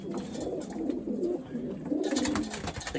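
A racing pigeon gives soft, repeated low coos close by, with rustling and a brighter noisy patch of handling or movement toward the end.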